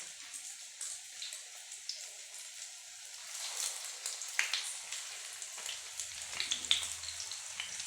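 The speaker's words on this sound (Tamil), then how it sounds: "சும்மா அப்படியே ஃப்ரை பண்ணி எடுத்துக்க வேண்டியதான்." Wheat flour and egg snack fries in oil, a soft steady crackling sizzle with scattered pops throughout, fairly quiet and close.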